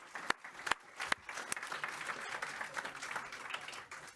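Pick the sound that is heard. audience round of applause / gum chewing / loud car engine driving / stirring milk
audience round of applause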